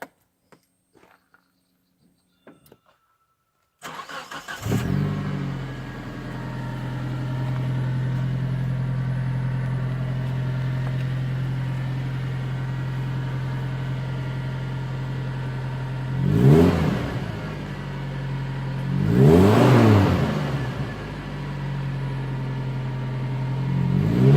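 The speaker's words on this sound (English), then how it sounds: "I'll start the car and I'll give you a couple of revs" A Vitara car engine cranks and catches after a brief silence, then idles steadily at close range, with two sharp revs rising and falling near the end.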